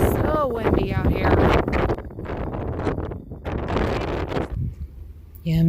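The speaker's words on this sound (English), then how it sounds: "Windy out here." Gusty wind buffets the microphone on a Louisiana beach, a loud rushing roar that rises and falls under a person's speech.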